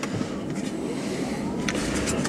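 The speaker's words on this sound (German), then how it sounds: "Stoßdämpfergehäuse macht Geräusche." Steady road and cabin noise fills the interior of a moving Tesla Model S Facelift. A faint rattle from the front shock absorber housing is buried in the continuous rumble.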